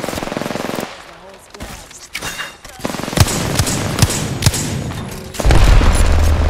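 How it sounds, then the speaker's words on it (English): Rapid bursts of automatic gunfire and sharp shots ring out in the battle royale game Apex Legends, loud and close in clustered volleys, with a voice speaking over the action. "Another team across shooting at you."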